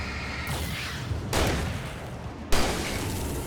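A shotgun fires in the video game Alan Wake Remastered, with three heavy booming blasts spaced about a second apart, each followed by a rolling noisy decay.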